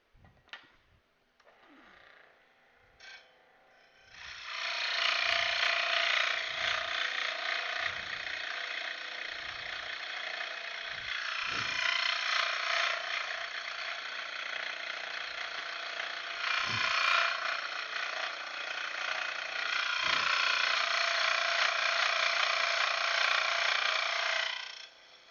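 A power saw cuts through wood in a prize build, running as a steady, fairly loud rasping whine for about twenty seconds after a few quiet knocks and handling sounds, its tone shifting slightly as the cut goes on.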